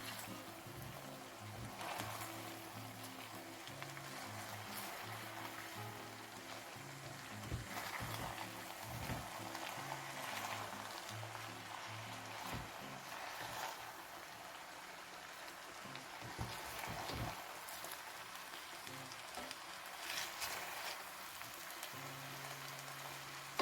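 Chicken and chorizo jambalaya sizzles steadily in a pan, a constant crackling hiss that holds at an even level throughout with no talking.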